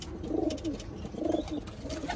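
Pigeons in a loft coo in two soft, rounded bursts, close and moderately loud over a light background hiss, with no talk.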